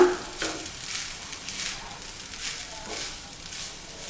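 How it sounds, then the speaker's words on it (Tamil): Vegetable fried rice being stirred in a pan, a faint sizzle with soft scraping strokes repeating every second or so, quiet and close, no voices. "அதில் இப்படி கிளறி விட்டுக்கலாங்க"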